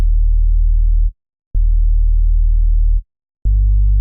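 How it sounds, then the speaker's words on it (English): A deep, pure sub bass tone sustained in three long notes with brief gaps, a softer octave above layered on top, each starting with a small click. "it's just a sine wave and then a sine wave again an octave above"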